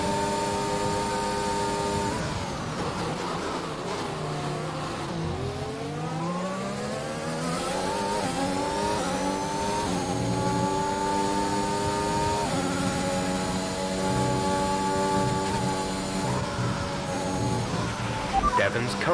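Formula 1 car racing in a video game, a loud high-revving engine whose pitch dives under braking and climbs again through upshifts, continuous and close.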